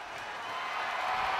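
Arena crowd noise from a SmackDown wrestling video game, a steady wash of cheering that swells slightly over a brief stretch, with no distinct voices standing out.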